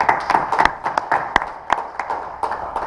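Sparse, uneven clapping from a small group at a boxing press conference, individual sharp hand claps scattered irregularly rather than a full ovation.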